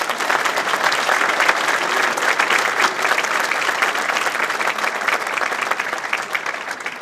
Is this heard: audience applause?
yes